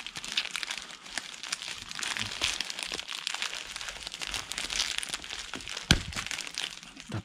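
A 4K webcam's packaging is torn open by hand, close and continuous crinkling and crackling of paper and plastic with a sharp snap near the end and no voices.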